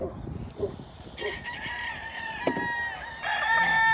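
A rooster crows loudly and close by in a farmyard, one long drawn-out call with a second crow starting at the end, mixed with some clucking and background noise.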